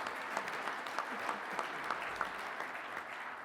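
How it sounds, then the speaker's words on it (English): Steady, dense applause from a conference audience of firefighters' union members at a legislative gathering, filling the room evenly and continuously with no voice on top. "So I hope you'll give them a round of applause and support them in their efforts."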